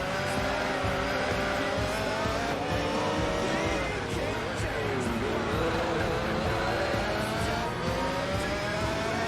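A race car fitted with a turbo kit roars through Gran Turismo 4, its engine droning loud and steady with rising and falling pitch sweeps through shifts, tire squeal mixed in.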